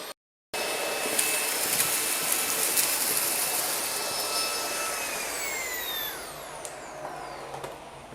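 A Roidmi F8 cordless vacuum cleaner whines loudly and steadily as it sucks particles off a floor, its high motor tone shifting and dropping in pitch toward the end, close up with no talking.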